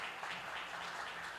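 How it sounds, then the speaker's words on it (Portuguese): A church congregation applauds during a worship service, a faint, steady wash of many hands clapping at a distance that continues evenly throughout. "Vamos aplaudir Jesus pela vida dos pais."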